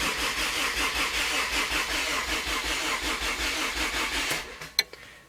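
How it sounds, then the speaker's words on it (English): Honda CR-V engine cranking on its first start attempt after a ground-up rebuild, a steady rhythmic churning of the starter that runs several seconds close and loud, then cuts off into near quiet with a brief sharp knock. "Alright, we got cranking."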